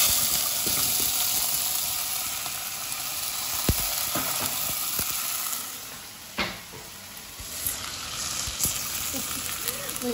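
Tomato goes into a hot pan already sizzling with garlic and ginger, bringing continuous frying hiss with scattered sharp pops and clinks, while a voice speaks faintly in the background.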